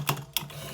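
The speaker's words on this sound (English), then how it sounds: "So we are stitching the top part too." A sewing machine stitching a welt pocket, two brief bursts of needle clatter over a low steady motor hum, close and fairly quiet.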